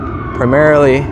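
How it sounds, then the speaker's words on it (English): Sirens from a convoy of about ten service cars wail in a rising tone through a city street in Washington, DC, loud and close, with someone speaking briefly over them. "10 service cars, all with their sirens on."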